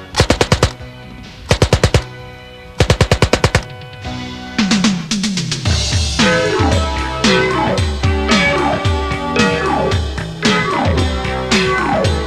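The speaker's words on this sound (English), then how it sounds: "It's available with a choice of either 20, 32, or 50 round box magazines, and fires at 500 rounds per minute." An MP-28 submachine gun fires in full-auto bursts: three sharp, loud rattling strings of shots with short pauses, then a longer continuous run of rapid, echoing fire.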